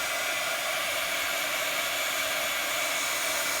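Steady, continuous airy whoosh of a heat tool blowing onto the back of a handmade card, close and loud, unchanging for several seconds with no talking.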